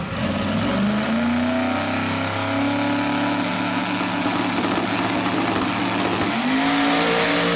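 A 4,500-horsepower twin-turbo V8 drag car at a drag racing event roars loudly and steadily for several seconds, its pitch climbing as it accelerates, then rising again near the end.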